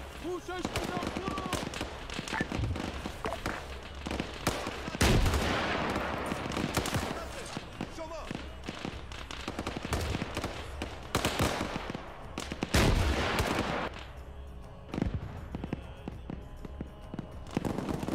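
Sustained gunfire in the Arma 3 military video game, with rattling machine-gun bursts and sharp single shots near and far, louder cracks at intervals, while voices talk over the shooting.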